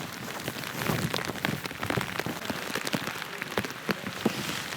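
Steady rain patters on a surface during a foggy trek, with scattered louder drops standing out against the constant hiss.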